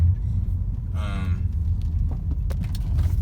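Infiniti car bought at auction and recently repaired, heard from inside while driving on the road: a steady low rumble of road and engine noise, with a brief voice in the middle and a few small clicks.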